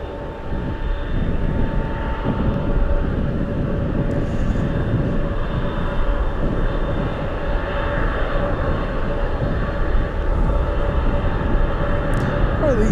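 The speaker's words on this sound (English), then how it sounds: "Oh my goodness, we have F-16s. We have Falcons." F-16 Falcon fighter jets at Anchorage airport on a gusty day send out a loud, steady, low-heavy roar that holds for the whole stretch, with a faint whine rising near the end.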